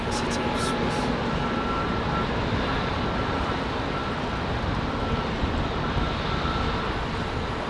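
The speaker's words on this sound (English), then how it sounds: "Nice Swiss 320 Neo, like that." A Swiss Airbus A320neo jet moves at Heathrow, giving off a constant broadband engine rush that stays even in level from start to finish. No voices stand out above it.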